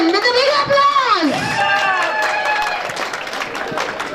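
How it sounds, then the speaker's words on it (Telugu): An audience claps for a guest welcomed onto the stage at a reunion gathering. Sustained clapping runs under raised, sweeping voices and cheers, most prominent near the start. "so welcome him with a big applause"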